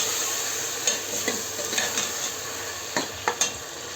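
Soaked green chickpeas are stirred in a frying pan with a soft continuous sizzle, punctuated by several sharp scrapes and taps of a spoon on the pan, close up and without talk.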